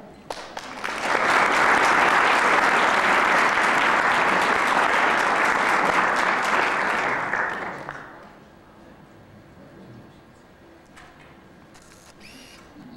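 Applause from an audience at an all-state awards ceremony for a school, loud and steady for about seven seconds before dying away into a quieter room with faint murmuring.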